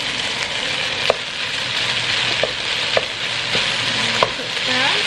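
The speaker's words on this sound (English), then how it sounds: "We're gonna add the shrimp." Shrimp sizzle and fry in a hot pan for an omelette-rice dish, a steady broad hiss with scattered utensil clicks and stirring scrapes, close and fairly loud with no talking.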